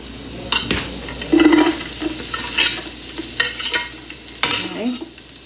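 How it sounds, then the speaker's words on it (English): Garlic sizzling in a frying pan while a spoon stirs and scrapes it, a steady crackling hiss with clinks and scraping strokes close by, no talk. "I'm going to put the rest of this garlic in."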